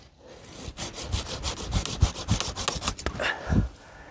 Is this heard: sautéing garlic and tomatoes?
no